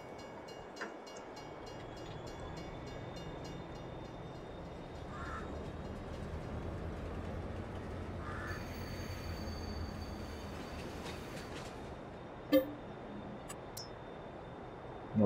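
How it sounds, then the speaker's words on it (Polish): Video game train from Farming Simulator 22 arriving: a low steady rumble of rolling railcars with squealing wheel tones and a couple of clanks, moderately loud and heard without talk. "A jest już pociąg."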